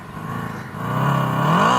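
Simulated silencer exhaust sound played by a Komaki Ranger electric cruiser motorcycle, a synthetic engine drone whose pitch sweeps upward and grows louder over a couple of seconds, heard close and alone.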